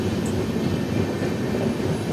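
Duronto express coaches roll past a railway gate at Iqbal in a steady, loud, continuous rumble of wheels and carriages, with no pauses or talk.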